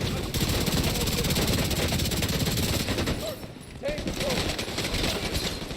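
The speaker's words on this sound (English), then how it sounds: "Taking heavy fire." Sustained heavy automatic gunfire from a firefight in the video game The Division 2, dense and continuous with a brief dip partway through, while voices shout over the shooting.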